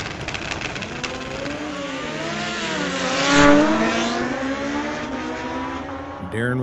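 A 2008 Kawasaki and a 2008 Hayabusa race side by side down a street-legal drag strip. Engines roar loudly with rising and falling pitch sweeps as they pass the microphone, a Doppler peak midway, and an announcer talks over them.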